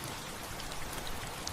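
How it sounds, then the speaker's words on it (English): Steady rain pattering on a surface, a dense hiss of drops filling the space evenly and close, with a few brighter individual droplet ticks, no voices. "Rain has secrets. You just have to listen."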